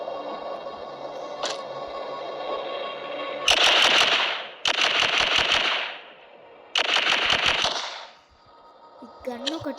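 Gunfire in the video game The Walking Zombie 2: three long bursts of rapid automatic shots, loud and close, separated by quieter stretches of game ambience and music.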